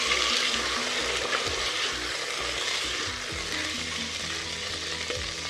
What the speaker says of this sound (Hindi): अब इसमें हम डाल देते हैं चना, थोड़ा सा चला लेना है।